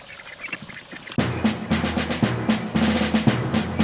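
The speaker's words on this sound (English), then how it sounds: "I'm hoping that tomorrow the drakes will stop pecking at the ducklings so that I can just integrate them into the coop." A group of ducks and drakes bursts into loud, close quacking after a quiet start, with repeated overlapping quacks in a rough, insistent rhythm.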